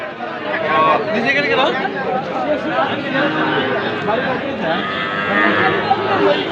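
Cattle, including small bull calves, lowing amid a busy, noisy livestock market crowd at Ambari, with constant chatter and voices all around; the moos are mixed into the dense background rather than standing out alone.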